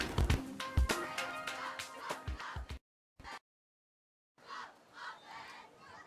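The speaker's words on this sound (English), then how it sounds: "Cheer squad's pumped up tonight" Cheer squad yelling and cheering at a high school football game, a loud burst of crowd shouts that cuts out, a brief return, then quieter cheering after a pause.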